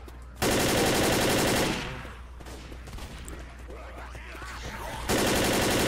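Automatic gunfire rattles in rapid bursts in Left 4 Dead, loud and sustained at the start and end, with a busier mix of shots and game noise in between while players talk over it.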